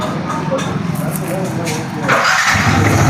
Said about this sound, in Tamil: ஸ்டார்ட் பண்ணி காமிச்சிடலாம்